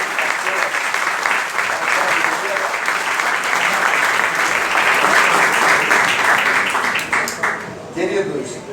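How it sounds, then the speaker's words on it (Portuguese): A church congregation at a conference gathering breaks into sustained applause, a full, dense wash of many hands that stays strong for several seconds and then thins and tapers off near the end. "Vamos aplaudir ao Senhor pela vida do nosso Senhor."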